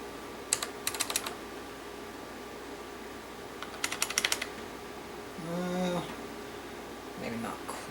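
A restored 1989 IBM Model M keyboard typed in two short bursts of crisp, loud buckling-spring clicks, with a low mechanical whir and a quiet hum between them.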